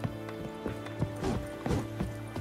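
Horse hooves clip-clop in a quick galloping rhythm in The Witcher 3, with a brief whinny-like cry mixed in; the sound stays steady and fairly quiet, with no talk over it.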